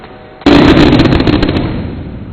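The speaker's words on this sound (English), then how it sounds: "That was a terribly loud boom." A loud fireworks boom bursts at a University of Oklahoma commencement, a sudden sharp blast followed by crackling and a long rumbling decay.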